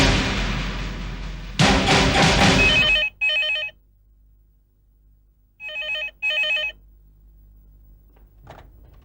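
An old-fashioned telephone bell rings in a Hindi drama scene, two distinct ring bursts following a loud crashing rush of noise, then quiet with a faint click near the end.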